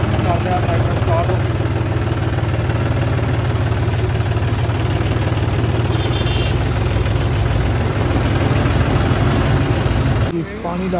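A farm tractor engine running steadily at idle on a potato field, a loud continuous drone that holds without a break and drops off abruptly at the end.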